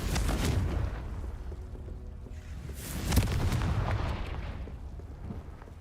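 A Confringo blasting spell fired in Hogwarts Legacy lands as a loud, rumbling explosion with a sharp boom near the middle, surrounded by continuous crackling blast noise and no talking.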